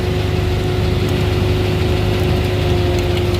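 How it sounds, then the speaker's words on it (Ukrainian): A tractor engine idles steadily and loudly close by, a constant low rumble with a droning hum and no other sounds. "Звісно, трактор валує."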